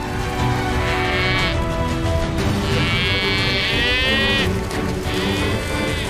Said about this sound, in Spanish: Bueno, ahí van los bueyes,